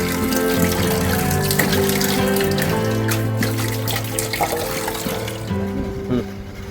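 Running water from a tap rinses freshly made chhana (cottage cheese) in a kitchen, a steady splashing trickle throughout, with clattering and a faint background voice underneath.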